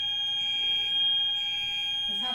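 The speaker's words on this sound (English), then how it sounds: "so that was a fire alarm" Fire alarm sounding indoors, a steady, piercing electronic tone held continuously before it cuts off near the end.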